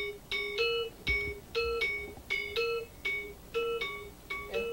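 A Balinese metallic percussion instrument struck with one hand and damped with the other gives a run of bright, ringing tones that are clipped short, spaced steadily and heard close and clear with no voices.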